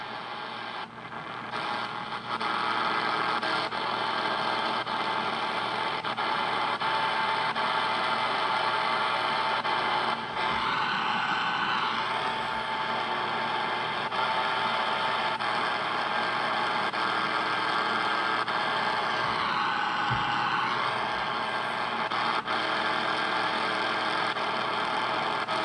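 An XHDATA D-368 portable radio on the AM band with a Grundig AN200 loop antenna being tuned slowly, giving a steady wash of static and hiss with warbling whistles and tuning sweeps, loud and constant throughout with no talking.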